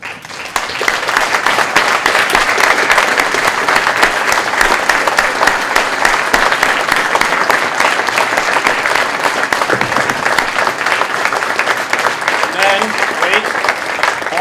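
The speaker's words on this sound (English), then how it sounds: "we can just give them one more round of applause for all their years on the team." An audience at a university racing team's car unveiling breaks into sustained, loud applause and clapping, filling the room steadily for the whole stretch without pause.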